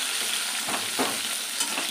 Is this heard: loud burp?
no